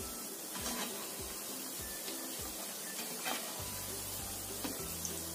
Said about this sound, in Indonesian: Goreng semuanya penggorengan aja.